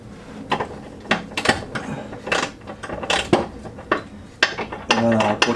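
A ratchet wrench clicks in short repeated bursts while tightening the last bolt on a Peugeot 206 subframe, with irregular metallic clacks and brief pauses between strokes, close and fairly loud.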